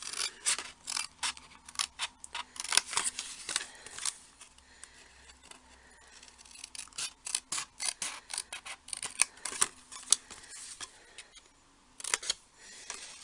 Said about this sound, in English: I'm cutting out the bottom left one on all of mine, but as it's a square it really doesn't matter.